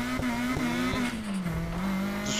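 A Nissan 180SX in the racing game Need for Speed Heat revs hard while drifting. A steady, buzzy engine drone shifts pitch up and down over a few seconds, with faint tire squeal mixed in.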